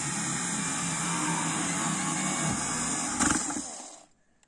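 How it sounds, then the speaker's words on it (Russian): A drill boring a hole through the centre of the bottom of a 10-litre white plastic bucket, a steady close whirring grind that rises briefly near the end before cutting off. "По диаметру фланца двигателя жесткого диска сверлю отверстие"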